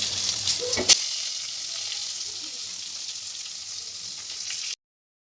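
Onions frying in leftover fish oil in a pan give a steady, close sizzle that runs unbroken for several seconds, with a brief clatter near the start.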